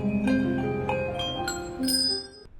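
A series of bright bell tones struck one after another, each ringing out and overlapping as handbells laid along a 2.5-metre table chime in a steady, unhurried sequence.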